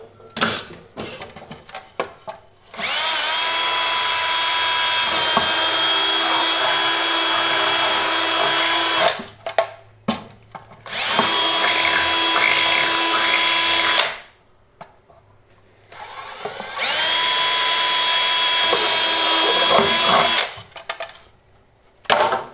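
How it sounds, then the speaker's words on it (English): A power drill fitted with DeWalt Pilot Point bits bores holes right next to existing holes while rear speakers are fitted in a 1988 Ford Ranger. Three long, steady whining bursts are separated by short quiet pauses. "And it works really good for drilling right next to already existing holes."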